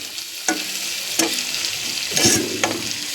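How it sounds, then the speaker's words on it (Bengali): Onions frying in a pan with a continuous close sizzle, broken by a few sharp stirring scrapes and clatters spaced about a second apart. "তার জন্য পেঁয়াজটা ভালো করে ভাজতে হয়"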